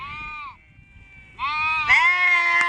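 A large flock of sheep and goats heading down to graze in the Gir countryside bleats loudly up close, several overlapping cries breaking out after a brief lull.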